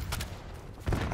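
Shotgun blasts in Call of Duty Black Ops 6, two sharp close bursts roughly three-quarters of a second apart amid game noise.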